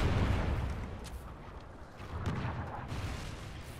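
A Trinity rocket strike explodes in a hardcore team deathmatch video game: a dense, rumbling barrage of booms rolls on continuously for several seconds, loud and close.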